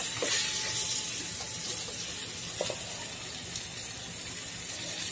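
Pieces of pumpkin and pointed gourd stir-fried in an oil-filled pan, giving a steady, close sizzling hiss with a few soft scrapes of stirring.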